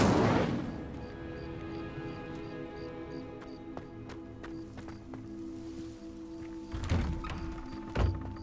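A fire spell bursts open with a sharp, loud whoosh in Hogwarts Legacy, then fades into a ringing magical hum, with a few heavier thumps following later on.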